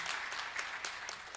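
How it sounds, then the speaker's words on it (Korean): Applause from a forum audience, a steady dense wash of clapping hands that holds evenly from start to finish with no voices on top. "박수 한번 주시죠"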